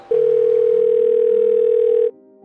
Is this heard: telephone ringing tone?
yes